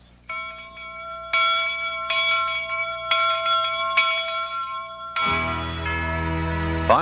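Brass steam locomotive bells on replica Jupiter and 119 engines ring in loud, clear strikes, four evenly spaced tolls followed by a fuller, heavier clang with a long ringing decay.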